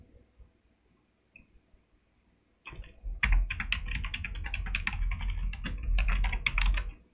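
Someone types rapidly on a computer keyboard at close range. The keys clatter in dense bursts that start after a few quiet seconds and continue to the end.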